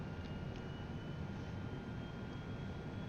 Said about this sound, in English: We're going to start the APU now, just so we're about ready to push back.